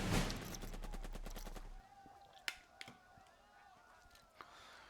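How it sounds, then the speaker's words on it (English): Mortar shells and gunfire in the WWII strategy game Burden of Command: a loud opening salvo of rapid shots settles into scattered sharp impacts and distant crackling over a low rumble. "Bam, bam, bam. Suck on 3 mortar shells."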